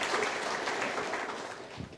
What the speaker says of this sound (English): I guess we need a round of applause for a Mac that works on first try